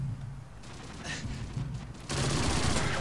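Gunfire in a Call of Duty online match, a continuous rattle of shots that swells louder near the end with no talk over it.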